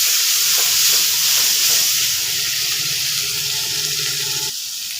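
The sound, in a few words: ground spice paste sizzling with fried onions in pan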